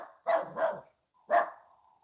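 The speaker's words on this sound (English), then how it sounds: "Puppy going crazy." Puppy barking close by: two quick yappy barks in a row, a pause, then a third, sharp and fairly loud against an otherwise quiet room.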